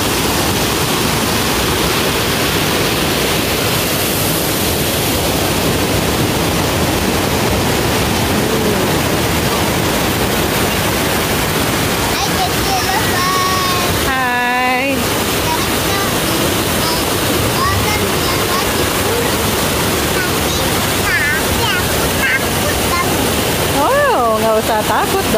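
Fast-flowing river water rushing at Curug Kembar waterfall in Batulayang, Cisarua, Bogor, a loud steady broadband roar that fills the whole stretch, with brief higher chirps and sounds rising over it near the middle and end.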